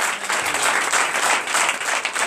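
A congregation at an Easter Sunday church service in Comè, Benin breaks into applause, a thick, even wash of many clapping hands filling a couple of seconds without pause.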